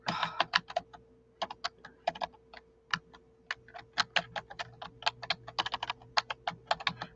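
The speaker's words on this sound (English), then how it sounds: "If I can type in the chat box." Fast, irregular clicking of keys on a computer keyboard as someone types into a chat box, the bursts of keystrokes close and fairly quiet, with short pauses between runs and a faint steady hum underneath.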